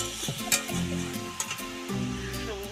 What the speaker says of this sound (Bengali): আমি তো কষাচ্ছি না, আমার মা কষাচ্ছে